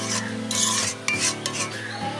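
Vegetables coated in spices are stirred in a pot, a spoon scraping and rasping against the metal in short close strokes over a faint simmer, with no talking.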